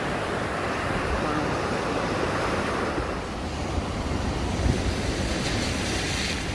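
Rain-swollen river rushing past on a wet road trip near Graaff-Reinet, a dense, steady roar of churning water close by with no break in the noise.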